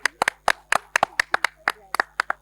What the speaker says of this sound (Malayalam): സ്നേഹത്തോടെ കൈയടിച്ച് പ്രോത്സാഹിപ്പിക്കാം.